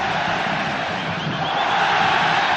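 A packed football stadium crowd chanting olé during a 1998 Libertadores group match between Vasco and Chivas, a loud, steady roar of massed voices that fills the whole stretch without a break.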